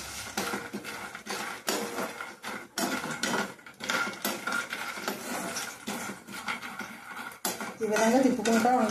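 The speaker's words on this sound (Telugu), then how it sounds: "ఈ విధంగా తిప్పుకుంటూ ఉండాలి వేగేదాకా" Peanuts roast in a pan and are stirred continuously with a utensil, giving close, busy metallic scraping and rattling clatter in irregular bursts, with faint background sounds near the end.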